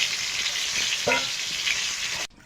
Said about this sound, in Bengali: পটলটা ভালো করে ভেজে নিয়েছি লাল লাল করে